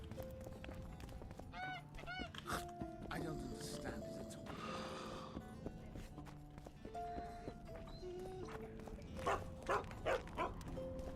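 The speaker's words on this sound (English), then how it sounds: "It's a big dog." A big dog barks a few times in The Witcher 2: Assassins of Kings at Vergen, the sharp woofs set among game sounds and other animal noises while someone talks over much of it.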